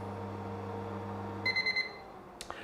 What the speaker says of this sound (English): the oven automatically stops and beeps to let you know that it's ready